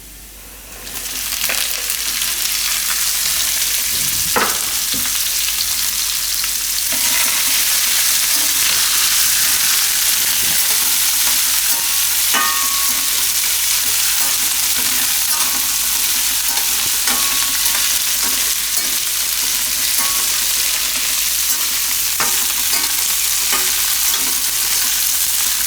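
Cauliflower florets stir-frying in hot oil with cumin, garlic and asafoetida, a loud, continuous sizzle with occasional scrapes and knocks of a spoon against the pan.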